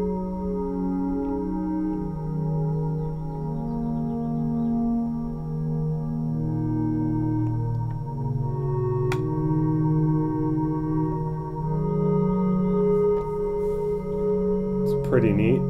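A sustained square wave tone on a Volante synthesizer, with gliding pitch changes and layered harmonics, spacious and steady, ending in a brief warbling sweep.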